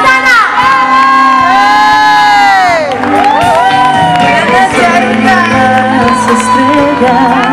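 A concert crowd cheers and shouts loudly to welcome a singer, with excited high-pitched voices, whoops and screams rising and overlapping in a continuous roar and little distinct clapping.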